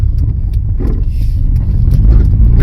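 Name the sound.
turbo Toyota GT Starlet car driving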